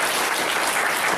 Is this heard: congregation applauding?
yes